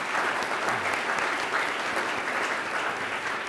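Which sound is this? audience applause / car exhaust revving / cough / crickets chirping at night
audience applause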